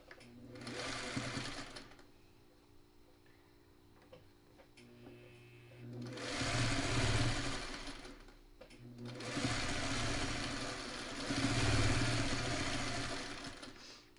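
A sewing machine stitches a quilt block in three bursts of rapid mechanical whirring and ticking, close by, separated by short pauses with faint handling sounds.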